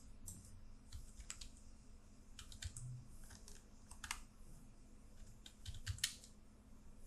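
Quiet, scattered computer keyboard keystrokes in small irregular clusters, a few sharper clicks among them, close and soft over a faint hum, with no voices.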